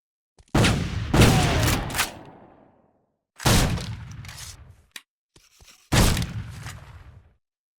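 Rifle volleys in a Civil War video game: three loud, close bursts of gunfire, each a sharp crack with a decaying rumble, separated by short gaps and a few faint pops.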